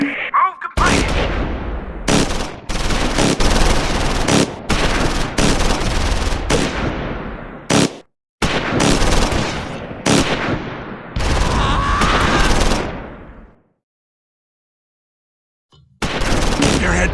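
Medium machine gun fire in the Close Combat 4 Battle of the Bulge game, loud repeated bursts with short gaps, ending in silence before another burst starts.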